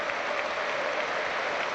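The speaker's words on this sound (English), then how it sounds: "does the Queen proud with this minute's applause" A stadium crowd at Villa Park applauds steadily through a minute's tribute to Queen Elizabeth II before a Premier League match, a dense, unbroken wash of clapping from thousands of people with no pauses.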